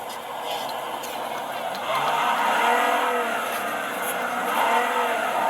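Razer Blade 15 Advanced (2021) laptop speakers turned to full volume play a loud, dense stream of racing-car engine roar and revving, steady and close throughout.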